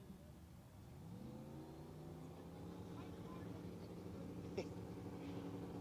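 A Ford Mustang drag car at a big-money shootout race revs and does a burnout, its engine tone climbing and then holding as a layered drone, fairly distant and faint, with a brief sharp crack near the end.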